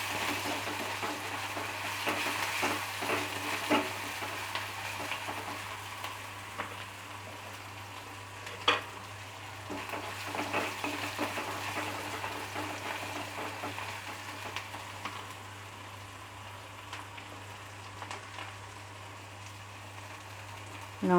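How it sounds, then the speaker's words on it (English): Masala squash with green chili is stirred in a pan, giving a soft continuous sizzle with scattered scraping and clinking from the spoon, fairly quiet and with no talk. "Mix it well."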